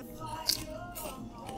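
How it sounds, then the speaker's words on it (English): One sharp, close crunch as someone bites into a crispy krupuk shrimp cracker, then faint chewing in a quiet room. "Good crunch."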